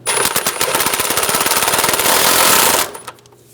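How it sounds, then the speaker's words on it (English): A power impact tool hammers off the crank pulley bolt on a 1994-1997 Honda Accord 2.2L four-cylinder engine, giving a loud, close, rapid rattling burst of about three seconds that then cuts off. "We're going to remove that crank pulley bolt now."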